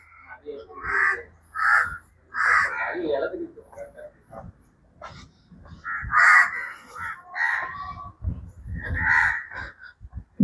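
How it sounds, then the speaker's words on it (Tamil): Crows cawing in repeated harsh calls, several in bursts across the clip, fairly loud and close, around the grounds of St. Antony's church at Uvari, with a person talking intermittently between the calls. "இந்த காக்காக்கெல்லாம் வேண்டாத வேலை பார்க்க தான் செய்யுது"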